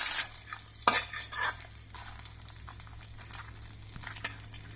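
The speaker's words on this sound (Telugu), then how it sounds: "ఇంగువ అండి, ఇంకా ఇలా వేయించేసుకోవడం" Asafoetida frying in a pan for a chutney: a quiet, soft sizzle broken by a few scraping stirs and light clinks of a utensil against the pan.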